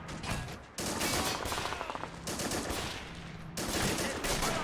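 A .30 cal machine gun fires in Men of War: Assault Squad 2, loud rapid bursts coming in three close, rattling runs with brief gaps between them and no voices over the top.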